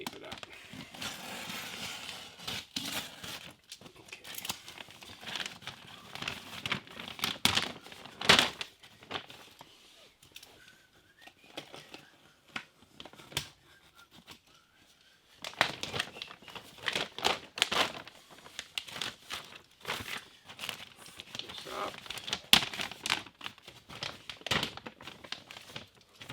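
Electrical tape being pulled, wrapped and crinkled around new outlet wiring in an off-grid Alaska cabin, a run of close, irregular crackles and tearing bursts with short pauses between them and no talking.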